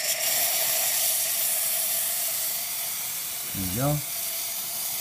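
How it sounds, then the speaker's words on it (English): A Cremina espresso machine's steam wand vents pressure in a loud, continuous hiss lasting several seconds, with someone briefly speaking near the end. "I will remove some of the pressure through the steam wand."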